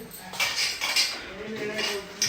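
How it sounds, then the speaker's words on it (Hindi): Dishes and cutlery clatter and clink as they are washed by hand in a home kitchen. The sharp metallic knocks come in irregular bursts, close by, over a soft background. "मम्मी यहाँ पे बर्तन धोते हुए"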